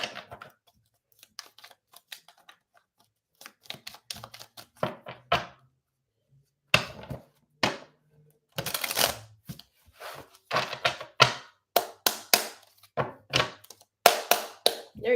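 Tarot cards are shuffled and tapped in repeated short bursts, quiet riffles and slaps separated by brief pauses, close by.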